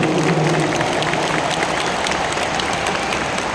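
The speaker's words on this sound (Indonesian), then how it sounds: "Tepuk tangan buat semua yang hadir di sini." Big crowd applause filling Jakarta International Stadium at a political rally, a dense, continuous roar of clapping and crowd noise throughout.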